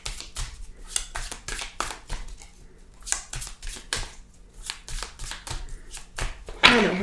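Tarot cards being shuffled and cut by hand, giving a steady run of crisp riffling and flicking bursts, close and fairly loud, with a sharper flurry near the end and no voice.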